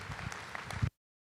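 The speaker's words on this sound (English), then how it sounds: "please give them a big round of applause." Crowd applause for youth exhibitors at the Rodeo Austin market goat show, a dense burst of clapping that runs just under a second and stops abruptly.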